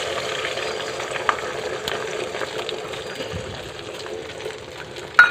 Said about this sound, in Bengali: আর এই ডিমটা এখন ভাজবো